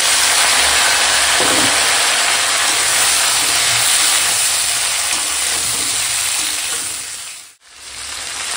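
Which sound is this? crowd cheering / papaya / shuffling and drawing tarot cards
papaya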